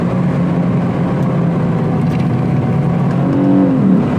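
A Lexus car fitted with a Takeda cold air intake revs hard and loud, its engine note rising steadily through a gear shift near the end, heard alone without voices.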